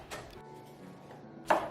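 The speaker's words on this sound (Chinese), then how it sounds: "准备1包榨菜，剁成小粒" A knife mincing pickled mustard greens (zhacai) into small bits gives a few sharp, close chopping knocks on a board, one at the start and a stronger one near the end, with quiet between.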